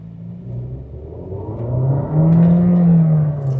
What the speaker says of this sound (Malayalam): ട്രാക്ഷൻ കൺട്രോൾ ഓഫാക്കി. ഇനി ഫുൾ ത്രോട്ടിൽ.